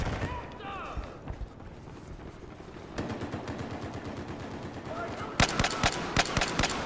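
Rapid rifle fire from an MK11 mod in Battlefield 4, sharp repeated shots in bursts, louder and denser near the end, with someone talking over the gameplay.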